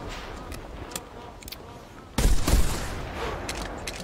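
Shotgun firing a single shot at magpie geese in the hunting video game theHunter Classic, one sharp loud blast midway with a rumbling echo that trails off, preceded by quiet outdoor ambience and faint distant pops.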